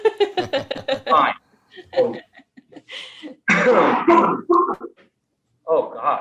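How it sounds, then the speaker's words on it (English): Staff members in a room cough and clear their throats in rapid bursts, close and loud, mixed with chuckling and snickering, with short pauses between the fits. "I just have some of my staff here coughing."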